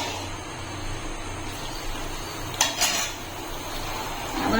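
A spoon scrapes and clatters against a pan as gram flour is stirred with ghee for dilkhush, under a steady low sizzle. A short burst of louder scraping comes partway through, with no voices.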